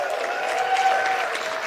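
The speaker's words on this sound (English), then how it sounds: "My round of applause." Audience applause at a comedy show, a short burst of clapping from a crowd, steady and moderately loud.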